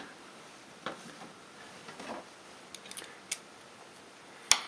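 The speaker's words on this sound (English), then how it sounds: "Okay, so we're just gonna put this panel back on" A metal refrigerator panel being fitted back into place, heard as scattered close clicks, light knocks and scrapes with quiet gaps between them and a sharper metallic snap at the end, with no one speaking.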